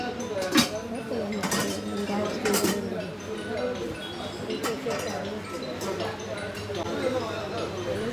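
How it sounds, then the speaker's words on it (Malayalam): Dishes and pots clink and clatter in bright, irregular knocks and chimes, some loud and close, with people talking over the clatter. "പാത്രങ്ങൾ"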